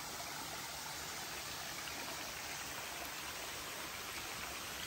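Natural mountain water and rainwater flow into a rainforest pool at a Sarawak resort, a steady, dense rushing wash with no pauses, moderately close and unbroken by voices.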